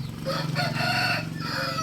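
A rooster crows among several hens, and some of the hens are laying eggs. The call is a single drawn-out crow, close and loud, over a steady low hum.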